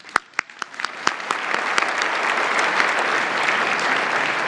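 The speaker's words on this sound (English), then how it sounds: "One more round of applause, please." Audience at a formal journalists' dinner applauds, starting with a few sharp separate claps that quickly swell into dense, sustained clapping from a large crowd.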